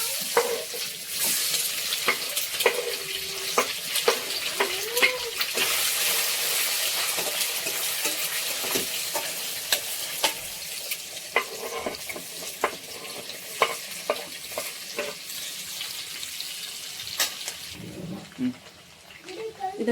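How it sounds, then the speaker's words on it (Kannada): Eggs fry in a pan with turmeric and chilli powder for egg masala rice, giving a steady close sizzle with frequent sharp clinks of a spatula stirring against the pan, while someone talks over it. "ಇವಾಗ ಹಾಕ್ಕೊಂಡಿದ್ದೀವಲ್ಲ, ಮೊಟ್ಟೆ ಫ್ರೈ ಮಾಡ್ಕೊಳ್ಳೋಣ."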